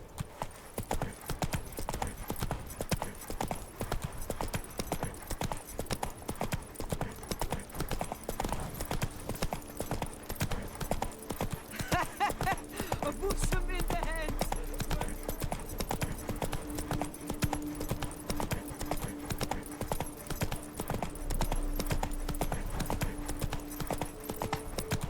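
Roach, a horse in the Witcher 3 video game, trots at a steady pace, hooves clip-clopping rhythmically and continuously, fairly soft, with faint game ambience beneath.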